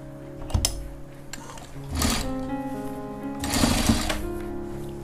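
A sewing machine stitches a seam on a jacket (koti), running in three close, steady bursts of whirring with short pauses between them.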